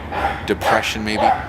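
A dog gives a brief bark or yip close by, partly buried under someone talking.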